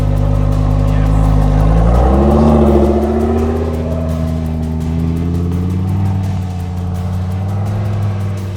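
A Lamborghini revs hard and pulls away across ice toward pavement, its loud engine note rising and falling through shifting gears and holding steady at close range for several seconds, with a Cherokee nearby.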